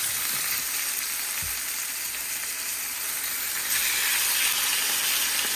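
Brined pork chops sear in a crowded pan, producing a dense, steady sizzle that grows slightly louder partway through, with a faint clunk early on.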